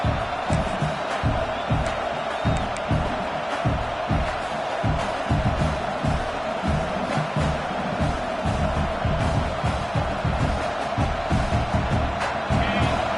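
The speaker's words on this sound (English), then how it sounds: "Listen to the crowd energy here in the early going." A large stadium crowd roars continuously at a Notre Dame vs Clemson college football playoff game, with rhythmic pulses of clapping or chanting rising through the dense wall of cheering.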